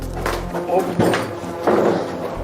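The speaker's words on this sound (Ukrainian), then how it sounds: "Зараз ми в тамбурі відкриваємо двері і проходимо всередину." A door in the vestibule of a run-down Lviv bomb shelter is opened, giving a couple of dull thunks and a creak, with someone talking over it and a low hum in the background.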